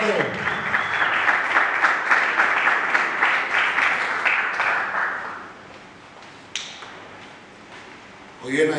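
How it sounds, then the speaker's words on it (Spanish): Audience at an audiovisual awards ceremony bursts into strong, dense applause that holds for about five seconds, then drops away; a few faint knocks and thumps follow before clapping swells briefly again at the end. "¡Fuerte los aplausos!"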